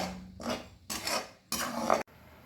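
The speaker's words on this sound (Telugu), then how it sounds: "కొత్తిమీర పేస్ట్ని మధ్య మధ్యలో కలుపుకుంటూ ఉండాలండి" Coriander paste with cumin frying in oil over a low flame in a pan, stirred with a utensil: three bursts of scraping and sizzling stirring at a close distance, separated by short pauses, with no talking.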